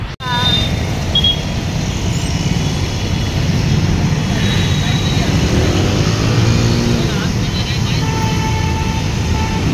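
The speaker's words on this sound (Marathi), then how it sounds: "बघू शकता तुम्ही खूप ट्रॅफिक आहे" Heavy road traffic on a busy street, a loud constant engine rumble with passing vehicles and horn-like tones, voices audible over it.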